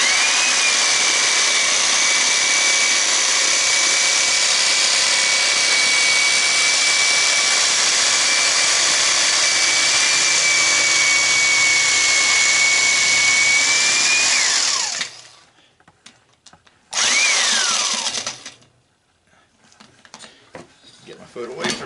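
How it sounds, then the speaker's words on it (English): A jigsaw with a 12 teeth-per-inch blade cuts through a tire to free it from the rim, a loud, steady whining buzz for about fifteen seconds, then stopping, with a short restart and scattered handling noises. "1/4 inch hole works about great for the jigsaw blade, and I'm running I think it's 12 teeth per inch"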